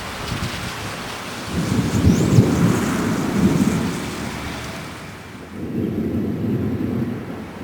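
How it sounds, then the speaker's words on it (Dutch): Steady rain pours during a storm in Aruba, with low rolling thunder swelling loudly around two to four seconds and again near the end, close and continuous with no voices. "Gewoon meer regen."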